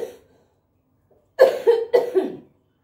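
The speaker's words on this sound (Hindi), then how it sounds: "और मेरे को खांसी हो रही है" A close burst of several harsh coughs in quick succession after a brief quiet moment.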